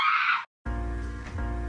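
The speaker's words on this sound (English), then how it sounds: "That was a really loud scream." A loud, high, shrill scream bursts out for about half a second and cuts off abruptly, followed by a brief silence and then a sustained buzzing, harmonic tone.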